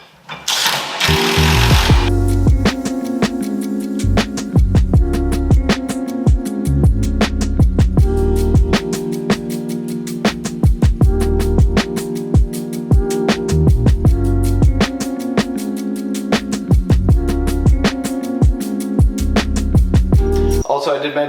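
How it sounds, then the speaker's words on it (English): A cheap cordless drill fitted with a half-inch socket drives screws home into a garage shelving unit. Its motor whirs loudly and steadily, broken by repeated short clicks and bursts of ratcheting. "1/2 inch socket on my cheapo drill."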